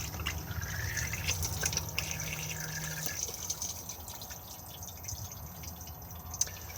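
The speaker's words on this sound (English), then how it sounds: "it's just a matter of pressing the button to flush." A Dometic cassette toilet in a Coachman VIP 545 caravan flushes with a steady close rush of water that cuts off sharply partway through, leaving a faint trickle and drip afterward.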